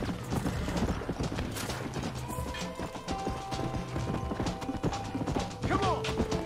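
Rapid hoofbeats clatter in a quick galloping rhythm over game sounds in Red Dead Redemption 2, with a horse whinnying briefly near the end.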